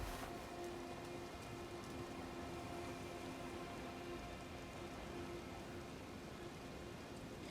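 Steady, soft rainfall in the Liurnian region of the Elden Ring video game, a continuous hiss of drops pattering on the ground with faint low ambient tones humming underneath, distant and even throughout.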